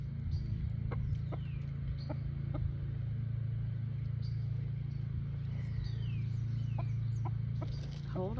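A rooster clucks and calls repeatedly at close range over a steady low hum and faint background noise, with brief sharp bursts scattered throughout.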